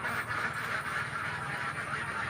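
A dense chorus of laying ducks on a duck farm quacking continuously, loud and close, with many birds calling over one another and no pauses.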